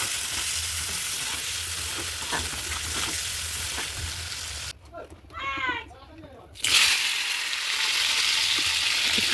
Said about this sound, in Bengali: আর একটু চিংড়ি মাছটা ভেজে যাচ্ছি।